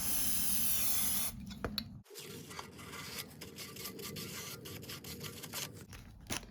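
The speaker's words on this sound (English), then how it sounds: "ye old brake cleaner is going to sort us right out. Just spray a bit on there now" A continuous brake cleaner aerosol spray hisses for about a second on a Toyota Celica GT ST202 part, then stops, followed by close rubbing and scratching sounds with faint light spray bursts.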